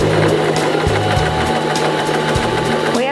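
A Janome 2049x sewing machine stitches fabric in a fast, steady mechanical whir with a rapid needle rhythm, close and loud, with brief pauses in the drive.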